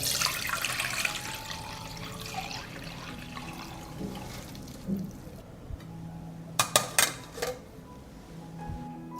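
Cooled nettle tea being strained and poured, a continuous watery splashing and trickling with a few clinks of a container near the end, close and moderately loud, with no talk.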